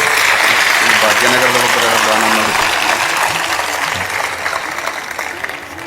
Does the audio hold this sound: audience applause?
yes